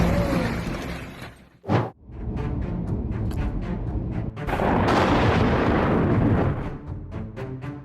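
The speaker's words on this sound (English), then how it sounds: "lightning slashed the dark sky as thunder rumbled across the city" Heavy, continuous rumbling thunder during a lightning storm over Jackson, loud and booming throughout, with one brief dip before the roar swells again and stays dense to the end.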